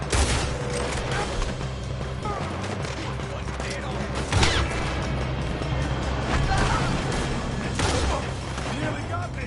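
Dense, continuous gunfire fills a PS4 video game shootout, with bursts and overlapping shots throughout, a heavier impact about midway, and voices talking among the shots.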